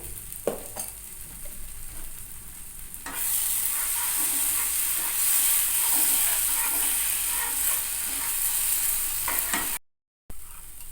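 Ridge gourd stir-fried in a pan with turmeric and salt, with quiet stirring scrapes at first, then a loud, steady sizzle that holds for several seconds before a brief cut to silence and a return.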